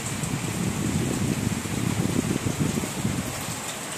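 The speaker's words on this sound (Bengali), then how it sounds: "ঝড়ের সঙ্গে বৃষ্টিও হচ্ছে। অনেক জোরে বৃষ্টি হচ্ছে, অনেক জোরে হাওয়াও হচ্ছে।" Heavy rain pours down with strong gusting wind in the hills, a steady broad hiss of falling water and rushing air at moderate level, unbroken throughout and with no voices.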